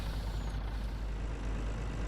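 A truck's engine drones steadily as it is driven back across a field on a back-yard farm, a continuous low rumble with no voices.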